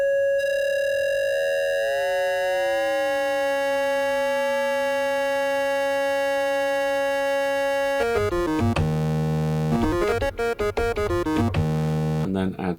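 A sustained synth tone from a Korg Minilogue XD running a FOLD user oscillator, with wavefolding at 50% on algorithm 2 and shape being added. Its buzzy, harmonic-rich drone slowly bends in timbre, then breaks into a rapid, stuttering sequence of pulsing notes.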